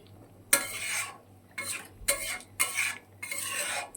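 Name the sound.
fish curry boiling and being stirred in a pot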